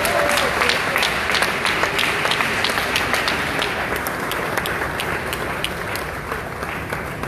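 A crowd claps loudly and steadily for a symphony orchestra at a concert at the French Institute in Kinshasa, sustained and dense before slowly easing off.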